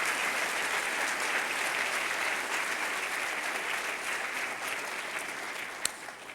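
A church congregation claps together in sustained applause that swells early and then slowly fades, with one sharper clap standing out near the end.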